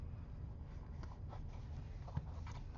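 Paper being folded down by hand, soft close crinkling and rustling strokes in quiet surroundings, with one brief sharper crease sound near the end.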